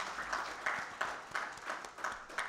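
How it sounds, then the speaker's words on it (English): Light, fairly faint applause for conference panelists, a thin crowd clapping with a few distinct claps at an even pace. "A round of applause for our panelists."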